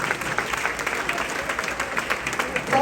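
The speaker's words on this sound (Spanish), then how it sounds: "Un aplauso al Señor." A church congregation applauds steadily, with scattered voices mixed into the clapping.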